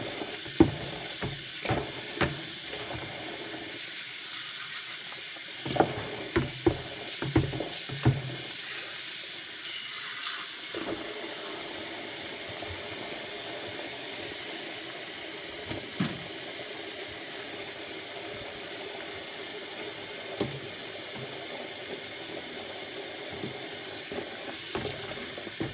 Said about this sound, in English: So I'm just going to continue to fill the bucket.